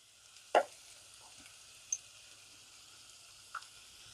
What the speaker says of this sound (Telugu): మెంతాకు మంచి ఫ్లేవర్ వచ్చేంత వరకు వేపుకోవాలండి